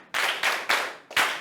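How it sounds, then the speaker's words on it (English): A classroom group claps in unison for a student, making four loud, sharp bursts in quick succession that are close and fairly evenly spaced. "Let's give him a round of applause."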